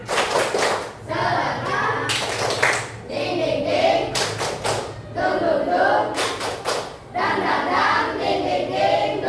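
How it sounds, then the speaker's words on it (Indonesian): Students in an elementary classroom do a rhythmic spirit clap in unison, bursts of group clapping in patterned groups separated by short gaps, with children's voices and chanting running between and under the claps. "Tepuk semangat."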